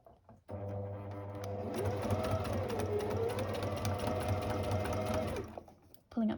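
A sewing machine runs in one steady stitching burst through a paper-pieced quilt block, close and even in speed, starting and stopping cleanly with brief quiet at each end.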